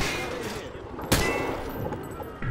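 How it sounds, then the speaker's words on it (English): Gunfire at range targets in a Call of Duty shooting-range scene: a single sharp, loud shot stands out against a busy game ambience, followed by fainter shots. "Grab that weapon off the table and fire at the targets behind you."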